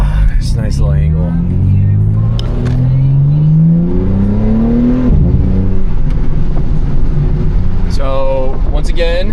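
A BMW G80 M3 accelerating on the road, its loud engine note climbing steadily through the revs, then dropping and building again, with a voice talking over part of it.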